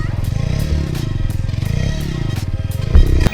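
A motorcycle engine revs close up with a pulsing, uneven throttle as the clutch is let out and the gas is worked for a wheelie, ending in a louder surge of revs.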